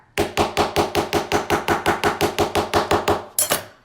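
A multi-function jewelry stamping hammer strikes a metal blank about fifteen times in a steady, rapid rhythm, each blow a loud, close metallic tap, ending with one sharper final hit.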